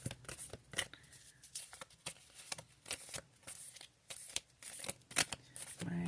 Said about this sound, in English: I have some oracle cards here. I'm going to shuffle